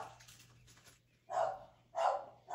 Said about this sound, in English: James is causing a ruckus and the dog hates James